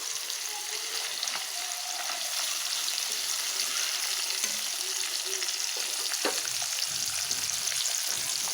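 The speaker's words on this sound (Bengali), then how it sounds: "এই পুঁটি মাছগুলো একটু কড়া কড়া করে ভাজা করুন, কড়া করে ভাজলে পুঁটি মাছগুলো খাইতে ভালো লাগবো।" Small puti fish fry in hot oil until crisp, a steady loud sizzle and crackle throughout with occasional stirring and no talking.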